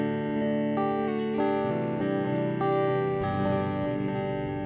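A guitar plays short melodic phrases through a Donner Echo Square delay pedal set to higher feedback, so each note repeats and stacks into a lingering wash of echoes. The playing is fairly quiet, with no talking.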